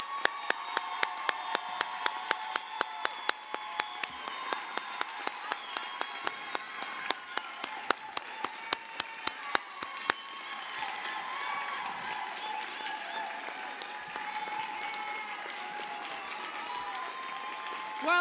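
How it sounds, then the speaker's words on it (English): Applause from a crowd at a high school graduation ceremony, steady clapping heard from a distance with a regular train of sharp clicks over the first half, fairly faint and sustained. "One more round of applause for these graduates"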